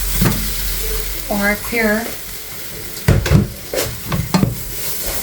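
Rice hits a pan of desi ghee and sizzles, with scraping stir strokes and clatter at close range, while a voice speaks briefly over the cooking.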